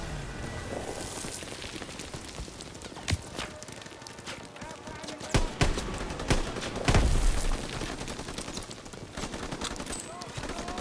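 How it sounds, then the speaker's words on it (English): Rocket launchers fire during Call of Duty WWII combat, with sharp blasts and scattered gunfire over a busy battlefield din and a heavy boom landing near the middle. "Someone's still firing rocket launchers."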